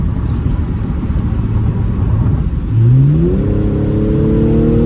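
Modified supercharged Audi S4 exhaust swelling into a rising engine note as it accelerates hard, starting from a low rumble and climbing in pitch, loud and close with no talk.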